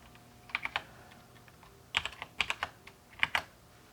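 Keystrokes on a computer keyboard entering values in small clustered bursts, with short pauses between groups, close and fairly crisp over a quiet room.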